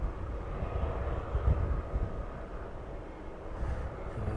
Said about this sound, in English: taxiing back off towards its hangar for the evening.